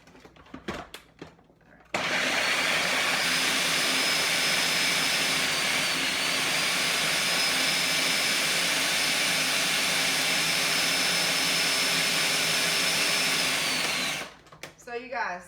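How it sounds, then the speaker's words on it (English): A food processor grinds raw vegan spaghetti 'meat', a loud, steady whirring roar that starts abruptly and runs unbroken for about twelve seconds before cutting off, with a voice talking briefly before and after. "I'm going to put it in the food processor"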